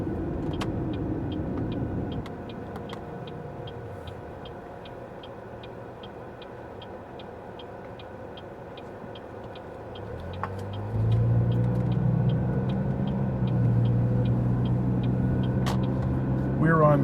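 A car drives through the streets of Pepperell, its steady low engine and road rumble continuing throughout, with a deeper, louder engine drone rising over the final seconds.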